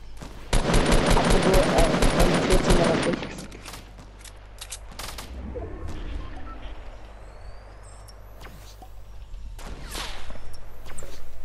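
Rapid automatic gunfire in a video game shooter duo match, a dense loud burst lasting a few seconds, followed by quieter movement noises and a couple of isolated sharp shots.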